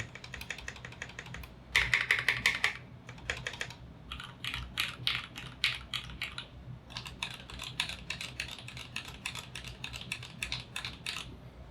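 Typing on a KBD75v3 keyboard fitted with Durock 65g linear switches, steady bursts of rapid close keystrokes with short pauses and a few louder clusters, quiet and alone.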